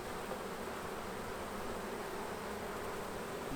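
Honeybees at an open hive with fresh wax and brood frames set a dense, continuous buzz, close and even throughout, with no one talking.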